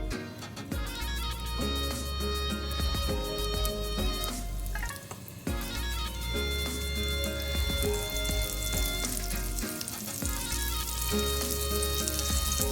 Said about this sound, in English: we have to fry the fish till it's golden, okay, and crisp